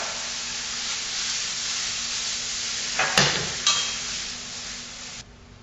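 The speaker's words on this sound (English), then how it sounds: "Go ahead and saute that all up." Frito pie filling sauteing in a pan, a steady sizzling hiss throughout with a couple of sharp stirring scrapes near the end before the sizzle drops away.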